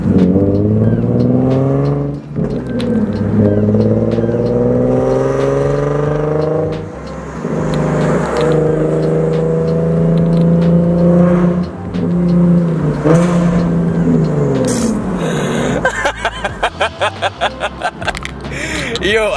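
A Nissan 370Z with a Tomei exhaust revs loudly inside a tunnel, its engine note rising and falling through several long pulls that echo off the walls. The clip ends in a rapid burst of crackles and pops.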